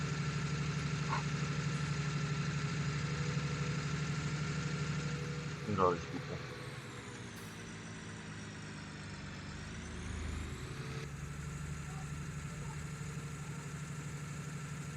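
A tractor trailer truck engine in a video game hums at a steady idle-like drone, dipping and rising slightly as the rig climbs a hill, while a person talks briefly over it.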